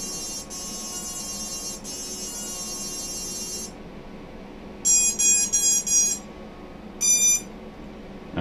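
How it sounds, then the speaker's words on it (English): Startup tones from a RaceFlight-flashed drone flight controller after the battery is plugged in: a long high beeping melody, then four short tone bursts and one more, clear and close over a steady electrical hum. "Now when you plug your battery up, you will get a series of tones"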